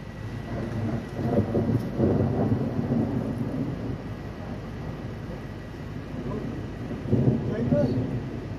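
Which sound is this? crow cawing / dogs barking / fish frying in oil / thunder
thunder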